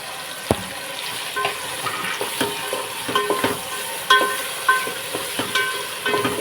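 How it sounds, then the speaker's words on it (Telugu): Tomato pieces fry and sizzle in a pan while being prepared for a Sunday paneer biryani and chicken curry, a constant close hiss punctuated by frequent clacking, scraping stirs of a spoon, with no talking. "ఇవి కూడా మనం వేసేస్తాం టమాటా ముక్కలు"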